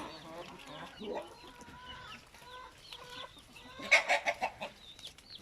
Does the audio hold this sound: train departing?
no